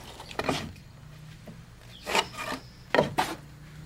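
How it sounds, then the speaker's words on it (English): Pencil or marker scrapes along wooden roof rafters laid against a rafter template with a 4-in-12 plumb cut, producing a few short, close rasping strokes separated by quiet pauses. "and we're marking our rafters"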